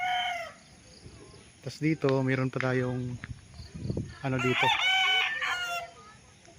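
Roosters crowing on a farm lot in Calauan, Laguna, several long crows with some clucking, fairly close, alternating with someone talking.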